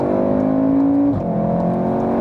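A 2016 VW Golf R Variant estate with a 2-litre 300 hp engine, DSG gearbox and all-wheel drive accelerates hard to overtake. The engine drone rises steadily, then drops sharply at a gear change before climbing again, loud and close.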